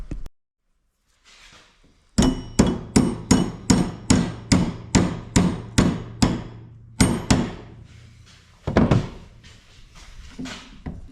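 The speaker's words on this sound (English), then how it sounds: "Let me grab my hammer." A steady run of about a dozen sharp hammer blows in even rhythm, close and loud, driving a pin back into an Agri-Fab tow spreader gear, then a pause and a few more heavier strikes.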